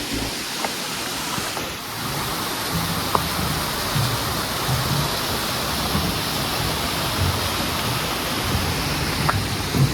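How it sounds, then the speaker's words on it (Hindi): The Pindar river rushes along beside a Himalayan trail in Kumaon, with fresh monsoon waterfalls nearby. A dense, steady roar of flowing water fills the whole stretch at a constant loud level, broken only by a few faint ticks. "दाएं हाथ में बहती पिंडर नदी"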